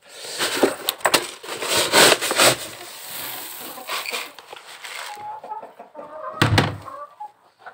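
Chickens and geese at feeding time on a farm flock of about 35 hens and roosters, with clucking and scratchy rustling close by, followed by a quieter spell and another burst of activity near the end.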